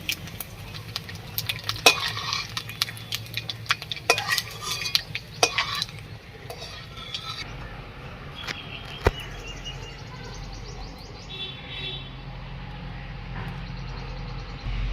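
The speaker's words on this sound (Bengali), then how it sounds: "নারকেল কুচানোটা আমার ভাজা হয়ে গেছে এবার আমি তুলে নেব" Grated coconut frying in a pan while a utensil stirs it, giving steady close sizzling broken by sharp scraping clicks and taps against the pan, with no talking.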